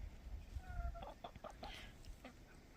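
Backyard chickens clucking in a short burst of quick, faint, nearby notes, with soft low rumbling underneath and no talking.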